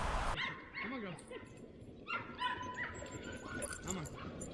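Sled dogs whine, whimper and yip excitedly before bikejoring in dryland mushing, a restless chorus of high, rising cries from several dogs nearby, with a person talking over them.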